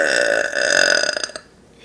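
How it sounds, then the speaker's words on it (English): A long, loud burp from a woman, tonal and sustained for over a second before breaking into a few short gurgling pulses and fading, heard alone and close. "Mama burped!"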